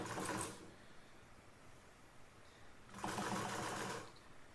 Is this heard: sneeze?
no